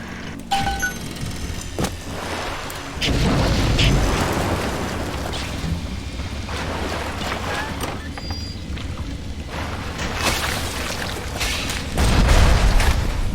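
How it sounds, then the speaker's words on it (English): Missile turret in the video game Bioshock firing, heavy booming blasts and rumbling explosions in a sustained barrage, with game noise and scattered talk in between. "It's a missile turret"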